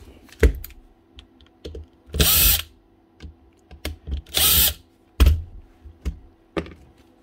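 Faulty Makita cordless power tool motor whirring in two short bursts, each lasting about half a second, amid clicks and handling knocks on a workbench.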